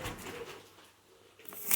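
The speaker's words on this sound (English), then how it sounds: "you can hear the birds in the background" Faint bird calls and soft cooing in the background of a quiet outdoor space, with a brief brighter chirp near the end.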